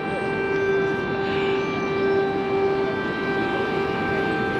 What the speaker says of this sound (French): Elle vient de commencer, donc on a la sirène qui commence.